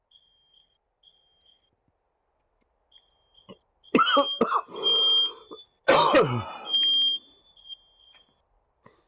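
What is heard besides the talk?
fire alarm beeping in the video game Firewatch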